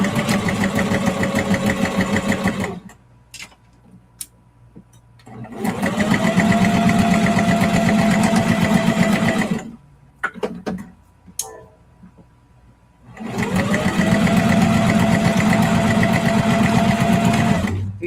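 A sewing machine stitches clear vinyl fabric at a 3mm stitch length in three loud, close bursts of rapid mechanical whirring, with quiet gaps holding faint clicks and handling between runs.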